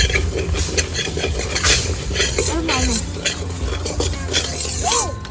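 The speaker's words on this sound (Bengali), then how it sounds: "এবার সুজিগুলো দিয়ে হালকা একটু নেড়ে নেবো" Semolina stirred with ghee in a pan scrapes and clinks steadily under a spoon, with a soft sizzle, close and busy, while people talk in the background.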